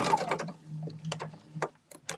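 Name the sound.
sewing machine stitching quilt blocks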